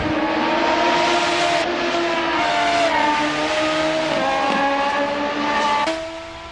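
Race cars at Mugello in a racing video game scream past with loud, sustained high-revving engines, pitch shifting through gear changes and passes, continuous and close with no talk.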